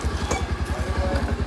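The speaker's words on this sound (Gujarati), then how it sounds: "ખાલી અવાજ બહુ બદલાઈ ગયો બાઇકનો" A motorcycle engine idling after repair work and an oil change, its even pulsing thump steady and close for the whole short stretch.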